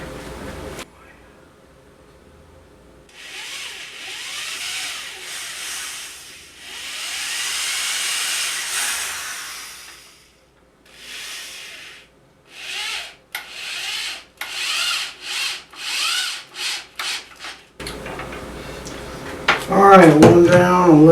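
Repeated bursts of drilling screw holes into a live-edge mahogany wall shelf set on the floor, several long grinding runs followed by a series of short rapid bursts, fairly close, with clattering at the end.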